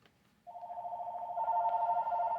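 A telephone starts ringing partway through, a steady warbling ring that grows slightly louder and continues to the end, heard alone without speech.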